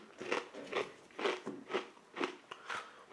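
Sharp, dry crunches of corn nuts being chewed repeat in a steady rhythm, about six bites close to the mouth, loud and distinct with no talking.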